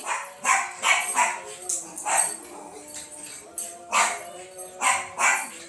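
A dog barks repeatedly in short, loud bursts at an irregular pace, close by, with a few softer yips between.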